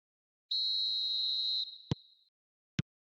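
Referee's whistle starting a match in the eFootball video game: one long, clear, steady blast lasting about a second, followed by two short sharp clicks.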